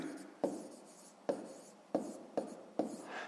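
Numbers written by hand in a math exercise: five short, sharp pen strokes tapping and scratching at a steady pace, each fading quickly, close and quiet in a hushed room.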